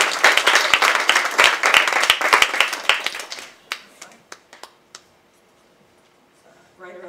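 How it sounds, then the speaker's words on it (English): An audience applauds a performer arriving on stage, with dense clapping that thins to a few scattered claps and then dies into near silence. "applause for Suzette coming in the last moment"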